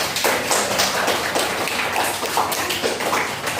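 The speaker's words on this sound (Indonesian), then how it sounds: "Tepuk tangan" A group in a teaching-practice classroom claps hands in a rapid burst of crisp, close slaps that carries on steadily for a few seconds without talk.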